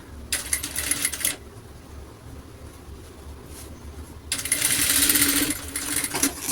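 Sewing machine stitching a silk skirt in two loud, steady whirring bursts, a short run and then a longer one, with a quiet pause between.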